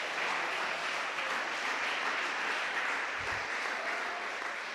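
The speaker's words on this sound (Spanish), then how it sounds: "¿cuántos le damos un aplauso, Señor?" Congregation in a church breaks into applause during a sermon, a thick, even wash of many hands clapping at once, loud and sustained throughout with no voices rising above it.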